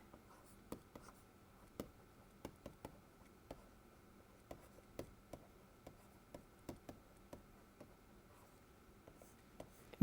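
Marker or chalk writing on a board during a fluid kinematics lecture: a steady run of faint, close taps and short scratchy strokes in irregular rhythm, with no talk.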